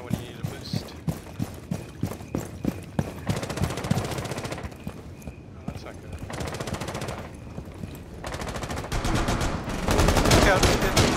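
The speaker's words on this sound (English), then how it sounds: "They're shooting from the hatch." Gunfire in the video game Rainbow Six Siege, a tight run of single shots followed by bursts of rapid automatic fire, loud and close, growing denser toward the end, with a voice talking faintly underneath.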